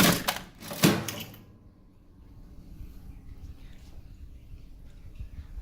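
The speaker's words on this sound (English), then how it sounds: "when we push down on this lever, it will eject that product out of the slot and it'll fall down here" Lever on a vintage U-Select-It candy vending machine pushed down to eject a product: a couple of loud mechanical clacks and rattles up front, then quiet room tone.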